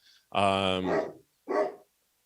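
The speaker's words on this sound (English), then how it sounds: "we got some dog activity here" Dog barking indoors close by, two or three sharp barks with a deep growly first bark and a shorter second one, loud against near silence.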